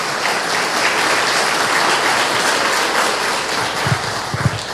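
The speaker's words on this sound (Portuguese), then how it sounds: "Pode aplaudir ao Senhor se você desejar." A crowd claps steadily in sustained applause, a dense even patter throughout, with a few low thumps near the end.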